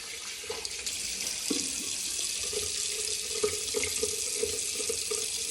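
Water runs steadily from a faucet into a sink during a shave, a constant close splashing hiss that lasts throughout with no voices.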